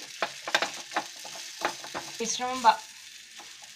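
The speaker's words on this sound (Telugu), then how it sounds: "కరివేపాకు పేస్ట్ వేసి 1-2 నిమిషాలు వేయించుకోవాలి." Curry leaf paste with green chilli, ginger and a pinch of asafoetida frying in a pan, with steady sizzling and several clicks of stirring, while a voice speaks briefly over it.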